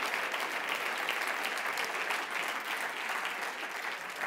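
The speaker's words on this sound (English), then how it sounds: "I invite the public to join me in applauding Omar Al-Khatami and Yahya Asiri" An audience at a 2018 Alternative Nobel Prize laureates ceremony applauds steadily, a dense continuous clapping that stays even throughout.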